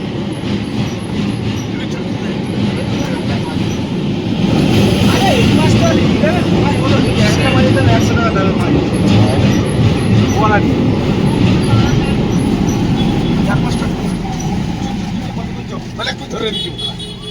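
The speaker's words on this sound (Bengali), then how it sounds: "এই যে একটা ডাউন ট্রেন ঢুকেছে" A down train pulls into a station with a steady, loud rumble of wheels and carriages that swells midway and eases toward the end, with faint clatter throughout and no clear talk over it.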